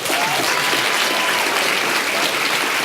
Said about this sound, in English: give the brother another round of applause